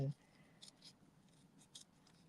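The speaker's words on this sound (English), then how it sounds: "my scissors are obviously doing the cutting, but I'm always turning my paper" Scissors fussy-cut paper in a few faint, close snips, with a sharp knock at the start and then soft intermittent blade sounds spaced about a second apart over low background hiss.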